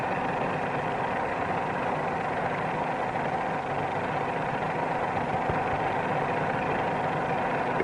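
An aircraft engine drones continuously at a constant pitch, laboring in a climb, a heavy, even hum with no pauses and no voices.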